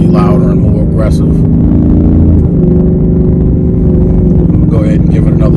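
Deep, loud exhaust roar from a 2024 Ford Mustang GT with a Corsa Xtreme cat-back exhaust, running in track mode on the road, with the engine note swelling and easing as it revs.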